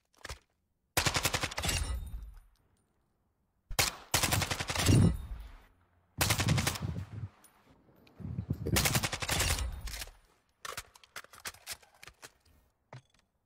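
A gun is test-fired in a video game: several separate bursts of rapid automatic gunfire, crisp and fairly close, divided by short silences, with no talk over them.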